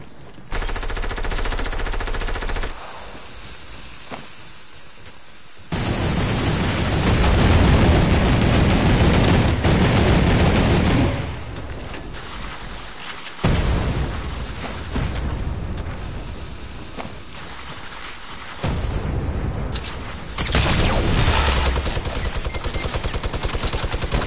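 Video game gunfire is heard as dense, loud bursts of rapid machine-gun fire with a few booming blasts, broken by short quieter gaps, and it runs on throughout with no talk over it.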